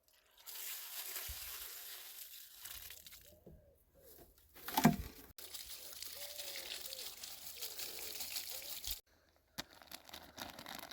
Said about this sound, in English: I'm giving each of the trees 2 watering cans